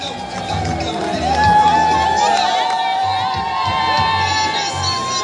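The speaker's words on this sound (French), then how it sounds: "vous entendez les cris" A large outdoor crowd at Mukwidja in Kalehe shouts and cheers for Congo's president Félix Tshisekedi, a loud, continuous roar of voices and whoops with someone speaking over it.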